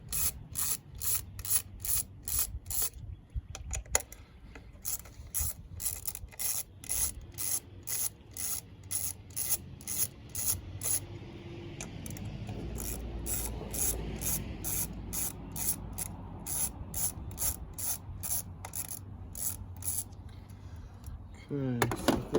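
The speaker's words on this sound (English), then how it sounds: "I'm just going to go ahead and loosen all of them up." A hand ratchet loosening bolts on the engine of a 2020 Jeep Compass during spark plug replacement, heard as quiet bursts of rapid, even clicking strokes, separated by short pauses.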